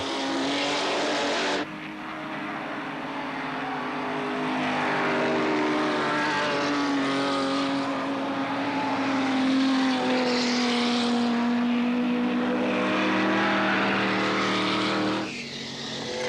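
Classic race cars, including a Ferrari 250 GT SWB, Jaguar E-Type and Alfa Romeo, roar past on the Nürburgring circuit, engines rising and fading as several cars pass close by one after another.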